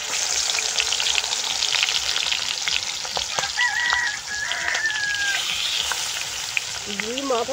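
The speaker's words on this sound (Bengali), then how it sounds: "এবার টকের মাছগুলো ভেজে নেব" Shol fish frying in a crowded kadai for a sour fish curry, giving a steady, loud broadband sizzle that runs throughout, with a rooster crowing and hens clucking faintly in the background.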